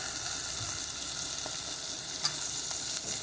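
Tomatoes hit onion and garlic frying in hot oil, giving a steady, close, crackling sizzle with light stirring noises throughout.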